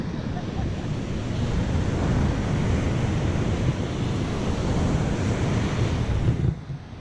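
Ocean waves breaking on a beach in near-calm conditions, a continuous loud roar of surf and wash that holds steady before easing near the end, with some microphone rumble underneath.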